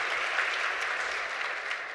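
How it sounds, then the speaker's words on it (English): An audience applauds a speaker at a conference summit, an even, steady wash of clapping from a crowd, moderately loud and sustained throughout. "round of applause for Georgie"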